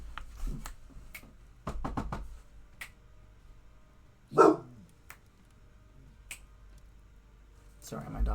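A dog gives a single short bark at people in a hallway, standing out briefly amid quiet background clicks and faint speech.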